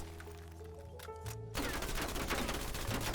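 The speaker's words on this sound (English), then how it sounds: "I'm gonna like just try to empty my mag real" Call of Duty zombies gunfire as a magazine is emptied in the Die Maschine starting room: a dense, loud, continuous burst of rapid shots that starts abruptly after a few isolated pops and runs to the end, with no talking.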